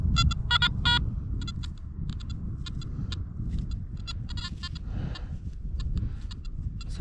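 A metal detector sweeping a field gives rapid, repeated beeping signal tones in short bursts over low wind rumble.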